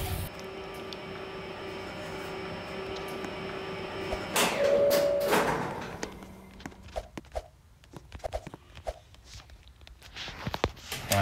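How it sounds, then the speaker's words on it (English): Heavy freight elevator doors roll shut with a sliding rumble and a loud thunk, then the car settles into a quieter hum broken by scattered clicks and knocks. "Doors closing."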